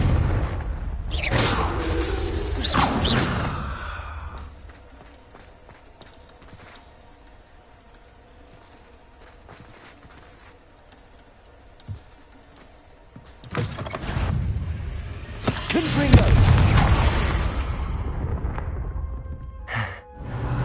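Bombarda and Confringo spells blast in Hogwarts Legacy: two loud bursts of explosive rumble open and close, separated by a stretch of quieter ambient game sound with scattered faint clicks.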